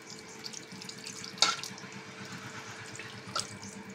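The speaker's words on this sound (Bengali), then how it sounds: "একটু জল দিয়ে দিচ্ছি" Water from a tap runs faintly and steadily in a home kitchen while a Bengali batti chorchori dish is being cooked, with a brief louder splash partway through and a small drip near the end.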